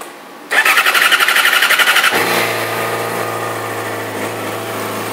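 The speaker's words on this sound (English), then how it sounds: "Let's fire it up here so you can hear what it sounds like." A stock-exhaust 2009 Yamaha YZF-R6 sport bike with about 1,000 miles fires up close by, revving loudly and unevenly for a moment before settling into a steady, even idle.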